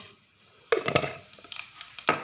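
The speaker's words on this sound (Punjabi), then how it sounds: "ਰਿਫਾਈਨਡ ਆਇਲ ਗਰਮ ਹੋ ਚੁੱਕਾ ਤੇ ਵਿੱਚ ਪਾਵਾਂਗੇ ਆਪਾਂ ਜੀਰਾ" Cumin seeds dropped into hot refined oil for a tadka, giving a sudden crackling sizzle that starts sharply partway through, then settles into a steady fry with a second burst near the end.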